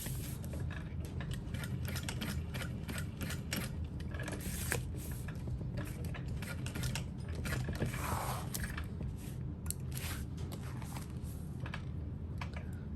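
A sewing machine runs at stitch length 4.5 through clear vinyl for a tote bag, with dense, rapid mechanical ticking that continues steadily throughout and no voices.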